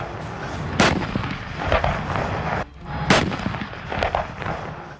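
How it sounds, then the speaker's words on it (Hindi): Two heavy blasts from a K9 Vajra self-propelled howitzer in Ladakh boom about two seconds apart, each trailed by rumbling echoes and fainter distant reports. "LAC पर पहली बार तैनात हुई K9 वज्र तोप की गर्जना सुनाएंगे।"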